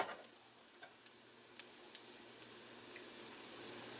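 Garlic and onions frying in a pot for a pork and Hatch chili stew give a quiet, steady sizzle with a few sharp ticks and pops scattered through it.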